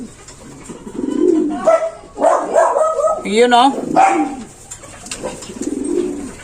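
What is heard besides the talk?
racing pigeon cooing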